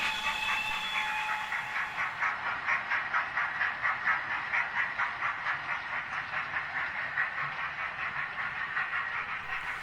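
A train rolls past, a steady hissing rush with faint rhythmic clickety-clack of wheels on rail joints, moderately distant and without voices.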